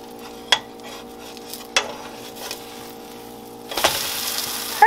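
Pancake batter with bacon sizzles quietly in a pan under a steady hum, punctuated by a few sharp scrapes and clacks, then a louder hiss of frying swells near the end as it is flipped.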